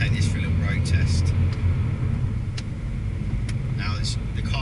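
A 2014 Mini Cooper SD 5-door hatch with a 2-litre twin-turbo diesel drives on the road, giving a steady low rumble of engine and tyre noise from inside the cabin under a voice.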